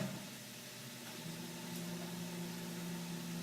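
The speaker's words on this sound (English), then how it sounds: "I am just going to toss this into the microwave." A low, steady electrical hum with a faint fan-like whir runs continuously, like an appliance operating nearby.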